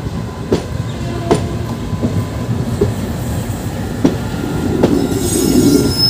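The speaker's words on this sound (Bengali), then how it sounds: "পুরো ডিব্রুগড় নিউ দিল্লি রাজধানী এক্সপ্রেস" The Dibrugarh–New Delhi Rajdhani Express rolls past loudly and close, a steady heavy rumble broken by sharp periodic wheel clicks over rail joints, with faint squeal near the end.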